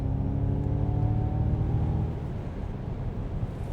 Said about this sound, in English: And the propulsion sound's on.